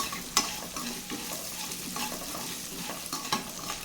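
Sliced onions sautéing with salt in a pan for a lunch-box recipe give a steady soft sizzle, with occasional stirring scrapes and a few clicks, close by and fairly quiet.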